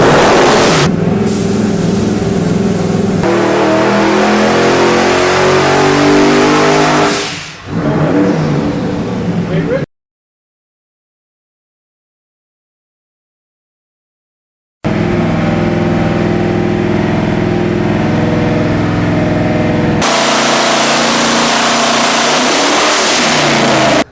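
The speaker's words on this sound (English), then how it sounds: "This is our all aluminum 572 cubic inch twin turbo Chrysler Hemi." An all-aluminum 572 cubic inch twin-turbo Chrysler Hemi engine, 1,000 horsepower, revs loudly and close, roaring up and dropping back in bursts, with a whine and a break of silence midway.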